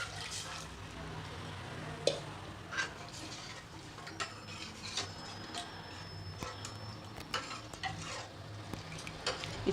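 Boiled spinach stalks stirred into a tempering for palak soup, quiet frying under repeated spoon clicks and scrapes against the pan, the taps coming at irregular intervals.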